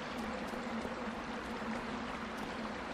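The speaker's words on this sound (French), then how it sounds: "voir qu'il y a une cascade là" Waterfall in the video game Shadow of the Colossus: a steady, even rush of falling water, broad and continuous at moderate level, with a faint low tonal drone underneath and no talk.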